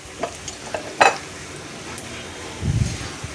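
Basic spices and a little goda masala roast in oil in a pan for a curdled-milk paneer bhurji, giving a soft sizzle under stirring, with a sharp spoon clink near one second and a low scrape of stirring toward the end.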